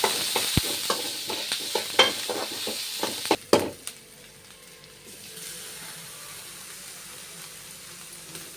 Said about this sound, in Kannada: ಎಣ್ಣೆ ಕಾದ್ಮೇಲೆ ಕರಿಬೇವು, ಈರುಳ್ಳಿ ಮತ್ತು ಮೆಣಸಿನ್ಕಾಯಿ ಹಾಕೊಂಡು ಫ್ರೈ ಮಾಡ್ಕೊಳ್ತೀವಿ